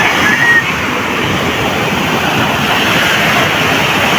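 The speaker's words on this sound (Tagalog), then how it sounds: "May alon po." Sea waves wash in as a loud, steady roar of broadband surf, continuous and close, with wind noise and no clear breaks between swells.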